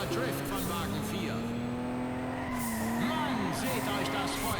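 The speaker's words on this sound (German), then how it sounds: "Toller Drift von Wagen 4." Race car sliding sideways through a corner in the game Juiced 2, tires squealing over a loud engine drone, with other cars and a voice talking faintly underneath.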